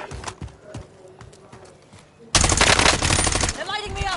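Bursts of rapid automatic gunfire from a multiplayer shooter video game, quiet and sparse at first, then erupting into a loud, dense volley for the last couple of seconds.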